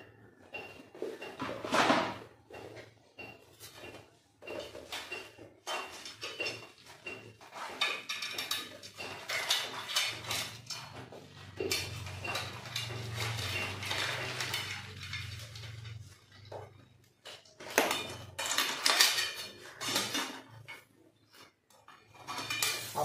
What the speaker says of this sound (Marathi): आपण टोपलीमधून चिंबोरी काढायला असा चमच्याचा वापर केला आहे.